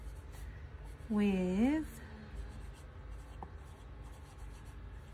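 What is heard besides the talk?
Lamy LX Marin medium-nib fountain pen writing on paper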